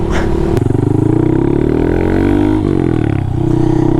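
A Honda Monkey motorcycle with a nearly new 181cc big-bore engine runs loudly close by, its pitch rising and falling as it revs and shifts, with a rapid throbbing pulse.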